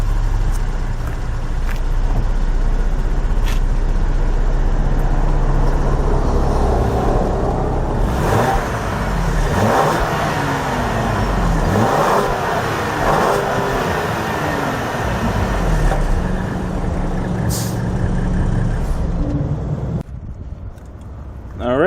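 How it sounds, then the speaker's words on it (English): A 2020-or-newer Ford Explorer ST fitted with an X-pipe exhaust revs up repeatedly, the engine note rising and falling in several swells over a steady idle, fairly close and loud, with some talking mixed in. "Let me get in and rev it for you real quick."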